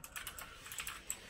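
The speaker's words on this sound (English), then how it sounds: "I can take my keyboard, put it on here." A computer keyboard being set down on a mouse pad gives a quick series of faint, light clicks and rattles, close by and quiet, with no voices.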